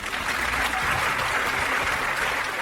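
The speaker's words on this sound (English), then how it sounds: "A round of applause to them too." A studio audience at a university quiz show claps for a competing team, a short burst of steady, fairly loud applause that holds evenly for a couple of seconds.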